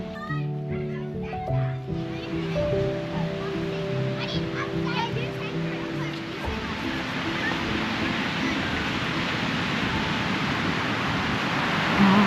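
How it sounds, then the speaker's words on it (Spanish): Sea waves wash in as a steady broad surf hiss near a campsite at dusk, rising slightly toward the end, while children's voices and other chatter are heard over it early on. "Qué sensación, ¿no? Volver a escuchar el mar."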